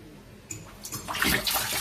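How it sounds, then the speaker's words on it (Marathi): Hot water poured into a water tank, starting as a faint trickle and swelling into a steady, close splashing gush that continues to the end. "त्यामुळे मी टाकणार आहे त्याच्यावर गरम पाणी."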